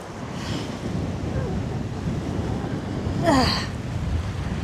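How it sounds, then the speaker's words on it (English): Wind gusts steadily across the microphone on Cambois Beach in Northumberland, with surf in the background, during a fishing session. The blowing roar is constant and fairly loud, with a brief gasp-like sound near the end. "Oh, wind, go away."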